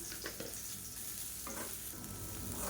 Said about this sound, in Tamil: சேர்த்துட்டு நல்லா ஒரு 2 நிமிஷம் பரட்டி விட்டுக்கலாம்